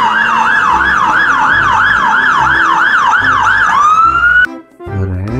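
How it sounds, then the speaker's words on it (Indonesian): A toy fire engine sounds a loud, rapid electronic wail that repeats in quick cycles, then settles into a steady tone, cuts off abruptly and is followed by a brief noisy rattle. "di sini ada mobil damkar."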